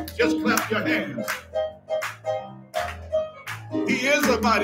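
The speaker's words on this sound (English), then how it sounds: "Just clap your hands." Congregation in a church clapping hands in a steady rhythm during praise, sharp claps over strong singing or voices with low tones throughout.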